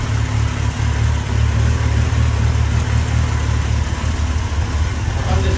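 An old 900 cc motorcycle engine idles close by, giving a steady, loud low rumble that holds evenly from start to finish.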